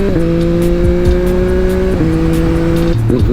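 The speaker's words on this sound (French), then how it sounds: "Ah, j'adore le bruit qu'elle fait cette moto là." A Yamaha MT-09 three-cylinder motorcycle engine holds a steady, loud high rev close by, drops briefly around the two-second mark, then again near three seconds before climbing, with a strong droning tone throughout.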